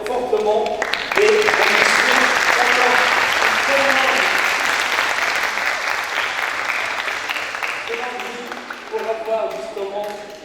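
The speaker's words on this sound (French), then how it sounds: "je vous demande de l'applaudir fortement" Sustained audience applause fills a conference hall at a science lecture in Morocco, loud and dense throughout, with a voice talking over it at the start and again near the end as the clapping tapers.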